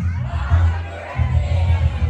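Crowd at a birthday party cheers and claps in a lively burst of shouts and applause, with some children's voices mixed into the noisy babble.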